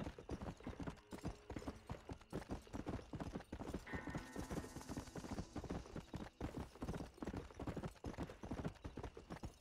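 Steady, rapid hoofbeats of a ridden horse in the video game Red Dead Redemption, a quiet, even clip-clop rhythm continuing throughout with a faint whinny partway through.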